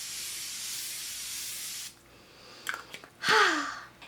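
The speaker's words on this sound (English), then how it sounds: "it's a beautiful facial spray" A Chanel facial mist is sprayed in a steady, close airy hiss lasting about two seconds, followed by a quieter pause and a short breathy rush of air.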